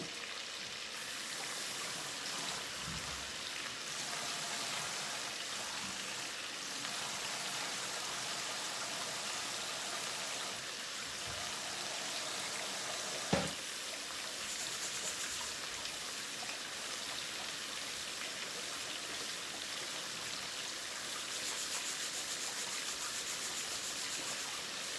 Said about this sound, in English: I'm just gonna put this in here so I can rinse this rice